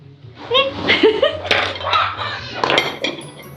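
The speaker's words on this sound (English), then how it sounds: "You actually cut it with a fork and knife" Fork and knife cutting a German pancake on a plate, with light clinks and scrapes of cutlery mixed under people talking and laughing nearby.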